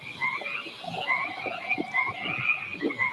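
A frog croaks repeatedly in a steady rhythm at moderate distance, with a continuous higher chirping chorus behind it and no talking.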